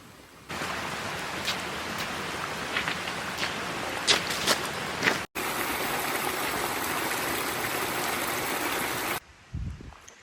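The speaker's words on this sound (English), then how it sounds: "So it looks like this is our very first creek crossing." Steady rushing of creek water flowing nearby on a trail in Angeles National Forest, a constant broadband wash with a few small splashes and clicks, pausing briefly midway before resuming.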